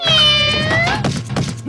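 A cartoon cat gives a long, rising and falling meow up front, followed by a few soft thumps and a short, higher mew at the end, close and clear.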